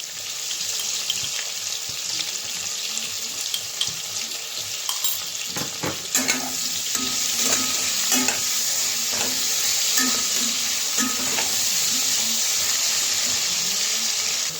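Kalibaush fish pieces fry in a pan with potato and vegetable stems, giving a soft, steady sizzle broken by a run of sharp scraping clatters from stirring in the middle.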